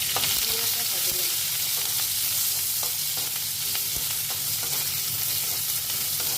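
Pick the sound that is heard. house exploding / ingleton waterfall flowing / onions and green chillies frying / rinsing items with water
onions and green chillies frying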